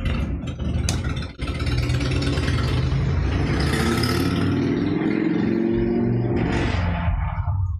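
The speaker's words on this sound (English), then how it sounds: "here comes Mr. Motorcycle with the fucking noise" A motorcycle engine roars loudly and steadily throughout, revving and rising in pitch as it passes close by, its drone filling nearly the whole stretch before easing off at the end.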